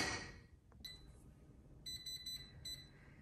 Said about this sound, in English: So you heard the timer.